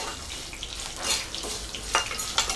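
Unpeeled garlic cloves frying in a pan for masala puffed rice: a short, close crackling sizzle with a few brighter pops and light stirring, no talk.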